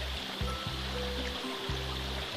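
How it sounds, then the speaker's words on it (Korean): Mountain stream in a valley flowing steadily with a soft, continuous rushing wash, heard close and alone over a low background rumble. "계곡입니다, 계곡."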